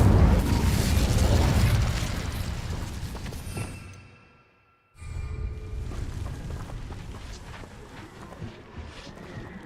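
A fire spell cast in the Hogwarts Legacy video game: a loud burst with a roaring, crackling rush that fades out, a brief silence, then more magical effects and rumbling game sound.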